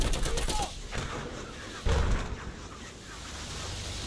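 Gunfire rattles in the video game Battlefield 1, with dense bursts and a heavier thump amid continuous battle noise.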